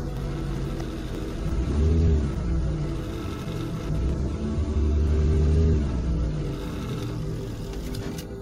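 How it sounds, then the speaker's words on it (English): Car fitted with an ignition interlock breathalyzer, its engine running with a low, close rumble that swells twice as it revs up and settles back. "The vehicle can now be started."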